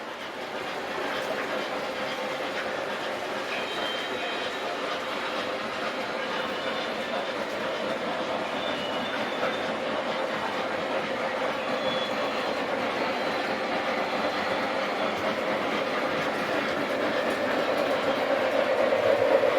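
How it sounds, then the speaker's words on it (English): An MTH model train engine runs steadily on its track, a continuous rolling rumble with faint clicking and a slight rise in loudness toward the end. "This is an MTH train engine"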